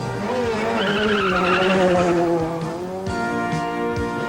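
A factory Lancia Delta S4 rally car races at the 1986 24 Hours of Ypres, its engine revving loud and near as the tyres skid and squeal, with a gear change partway through.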